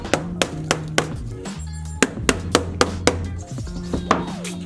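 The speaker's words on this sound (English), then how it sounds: "and hammer it down." Vinyl drop-lock flooring planks being hammered into place inside a campervan: a steady run of sharp, close knocks, roughly a dozen over a few seconds, with a brief pause midway and no talking.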